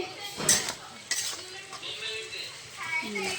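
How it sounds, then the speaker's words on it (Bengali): A utensil stirs turmeric through oil in a pan at the start of a cabbage curry with dried Bombay duck fish, giving close scraping and clinking strokes over a faint sizzle, with a voice speaking alongside. "এবার আমি হলুদটাকে অ্যাড করলাম, হলুদ দিয়ে এবার নেড়ে নিচ্ছি।"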